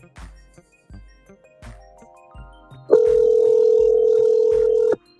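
A phone call is being placed: quiet tapping and clicks, then a loud, steady ringback tone holds for about two seconds before cutting off abruptly.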